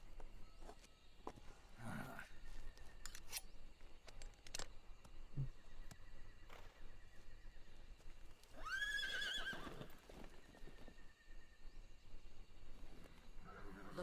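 In the jungle of Metal Gear Solid Delta: Snake Eater, a horse lets out a clear whinny midway among scattered clip-clop hoof steps and ambient game sounds, faint and at moderate distance.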